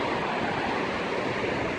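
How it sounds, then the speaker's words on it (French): Small waves roll onto a surfing beach, a steady, loud wash of surf noise throughout with no distinct breaks, close by and without voices. "ici c'est le paradis des surfeurs. Il y a plein de mini-vagues."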